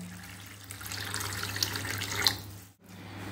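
Water drains out of soaked basmati rice in a home kitchen, a soft steady splashing trickle that runs for a couple of seconds, then cuts off briefly before a faint hum resumes.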